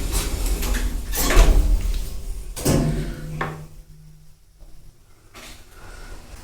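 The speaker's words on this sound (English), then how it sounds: "Doors closing." Cheap modern lift doors in a Liverpool building slide shut, with a few knocks and scrapes, a brief low hum, then a clunk as they close before a quieter stretch.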